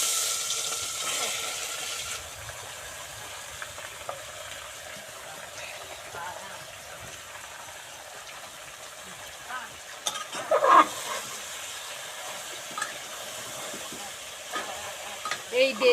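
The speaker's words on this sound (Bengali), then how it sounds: "এবার আগে থেকে ম্যারিনেট করা মাংসটা দিয়ে দেব।" Marinated country chicken frying in oil with cumin, dried chilli and bay leaf, a soft continuous sizzle with scraping stirs of a spoon in the pot, faint and close, with a few louder clanks near the end.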